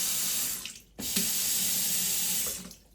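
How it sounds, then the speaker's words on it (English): A repaired faucet running after a leaking handle fix, water gushing steadily into a sink, briefly cut off then turned back on for a sustained close stream before fading out. "Just to show you that the water's back on."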